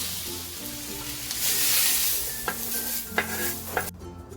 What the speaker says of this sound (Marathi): आपण खोबरं घालून घेऊया हे पण छान भाजायचं